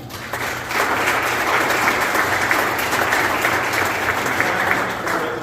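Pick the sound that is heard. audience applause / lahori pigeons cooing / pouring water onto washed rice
audience applause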